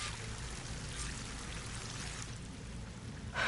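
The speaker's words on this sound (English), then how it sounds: "That waterfall must be coming from somewhere." A waterfall in the video game Horizon Forbidden West pours in a steady broadband rush, continuous and moderately quiet throughout, with a brief louder splash at the end.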